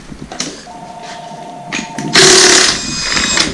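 Impact gun hammering loose a crank pulley bolt in a car repair setting, a loud harsh burst of rattling impacts that starts after quieter shop noise, close and sustained for over a second.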